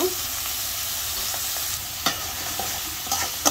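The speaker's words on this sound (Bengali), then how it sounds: "আমি ভালো করে চিংড়ি মাছটা কষে নিচ্ছি" Large prawns stir-fried in a pan give a steady close sizzle and frying crackle, with a few sharp scrapes and clinks of a utensil stirring them.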